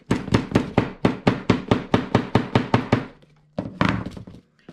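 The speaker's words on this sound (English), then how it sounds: "I'm just going to take my hammer and I go inside, and I'm basically pounding those until the snap is tight" A hammer pounds snap fasteners onto a tote bag quickly and evenly, about a dozen sharp knocks in a row, then a brief pause before a few more blows.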